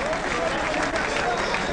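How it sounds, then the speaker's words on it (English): A boxing crowd keeps up a dense, continuous roar of applause and cheering, with voices blended into the wash of clapping throughout. "A nice round of applause for that young man."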